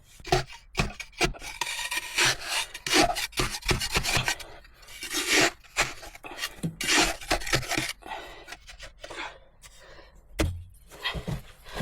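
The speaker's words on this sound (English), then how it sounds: "Sawing more smaller wooden beams from a birch log." Hand sawing of small wooden beams from a birch log, a rhythmic series of rasping strokes with brief pauses between them, close and fairly loud, with no talking.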